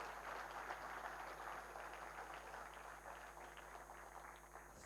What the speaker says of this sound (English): But you can give them a round of applause